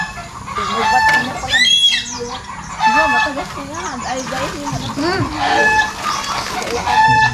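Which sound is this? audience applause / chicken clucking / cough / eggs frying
chicken clucking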